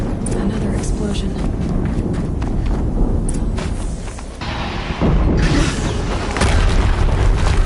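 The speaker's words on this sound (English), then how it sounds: "Another explosion." Explosions in Horizon Zero Dawn boom heavily in a deep, rumbling burst, then a second blast hits hard later on, with talking running underneath.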